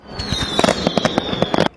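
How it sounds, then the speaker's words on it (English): Nonstop fireworks burst in a rapid string of sharp cracks and pops over a rising whistle, loud and close, ending abruptly after under two seconds. "The first half an hour was nonstop fireworks."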